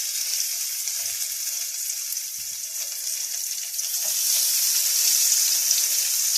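Green beans frying in a pan for a Turkish fried bean dish, with a steady, close bright sizzle throughout that swells louder in the second half, a few soft low clunks as the beans go in, no talking.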